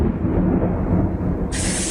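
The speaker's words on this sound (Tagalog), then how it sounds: "Panay pa ang kulog at kidlat." Thunder rolls through a heavy rainstorm, heard from a small shed in a rural village. A loud, continuous rumbling roar fills the sound, and a rush of rain hiss swells in about halfway through.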